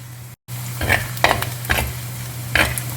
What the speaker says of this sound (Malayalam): ഉള്ളിയും പച്ചമുളകൊക്കെ എണ്ണയിൽ നന്നായിട്ട് വഴന്ന് വരണം കറിവേപ്പില ഇട്ട്